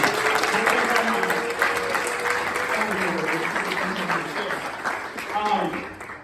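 Audience clapping during a speech as the speaker gives a shout-out, a sustained wash of applause from a crowd at steady loudness with voices and cheering mixed in over it.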